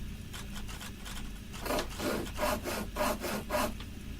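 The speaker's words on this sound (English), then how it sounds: "I sawed the base of the replacement chair." Hand-sawing through the wooden base of a replacement chair in the adventure game The Book of Unwritten Tales: a run of rhythmic back-and-forth rasping strokes, close and steady, growing more forceful partway through, with no talking.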